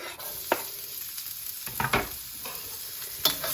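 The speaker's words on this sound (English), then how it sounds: "So the garlic and onions are going to go in and they're going to cook really quickly." Garlic and onions hit hot oil for chow mein, a close, steady sizzle broken by several sharp scraping stirs of the pan.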